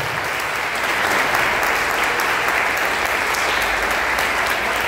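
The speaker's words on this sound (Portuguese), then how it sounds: "Vamos aplaudir a Jesus bem forte." Church congregation gives loud, sustained applause during a service, a thick, even roar of many hands clapping together that stays constant for the whole few seconds with no voices standing out.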